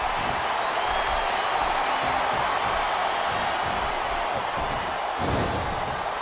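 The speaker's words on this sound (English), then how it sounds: "Wow, listen to that chant, Taz." Crowd noise from a WWE SmackDown vs. Raw 2007 wrestling match, a continuous broadband roar of an arena audience chanting, fairly distant and steady throughout with no clear rhythm.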